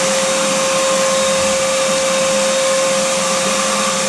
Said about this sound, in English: We're gonna vacuum the engine bay.